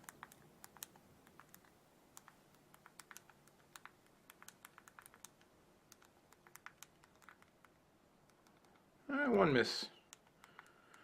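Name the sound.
typing on Palm Pixi phone hardware keyboard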